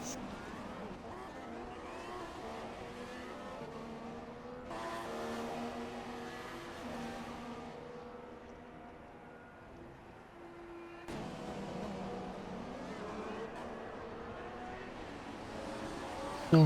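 Formula 1 engines whine at high pitch as a Williams car pulls ahead of Vettel's Ferrari, tones rising and shifting as the cars pass, with a commentator speaking over the racing.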